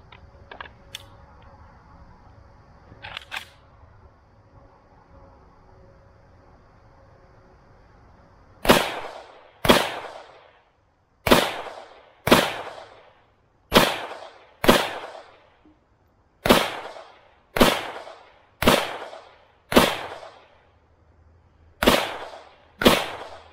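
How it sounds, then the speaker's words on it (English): Century Arms RH10 AK-47 rifle firing 7.62 rounds into lumber: a dozen loud, sharp shots in a steady rhythm, each with a short decaying echo, after a stretch of quiet outdoor ambience with a few faint clicks. "Lastly is the Century Arms RH10 AK-47."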